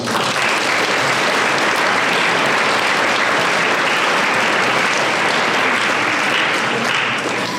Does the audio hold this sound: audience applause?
yes